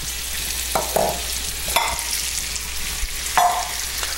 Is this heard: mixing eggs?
yes